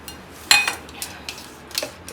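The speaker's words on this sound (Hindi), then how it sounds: "ये सैलेड इतना बचा हुआ है तो एक प्लेट में निकाल कर फ्रिज में रख देती हूँ।" Plates and cutlery clink and clatter in a home kitchen as leftover salad is moved onto a plate, with one sharp metallic chime followed by scattered lighter taps close by and no talking.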